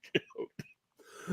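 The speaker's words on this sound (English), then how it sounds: "I did exaggerated slurp and choke myself." A voice makes a few short, exaggerated choking coughs and gagging noises, close and abrupt, with brief pauses between bursts.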